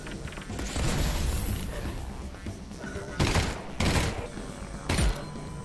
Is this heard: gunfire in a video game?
yes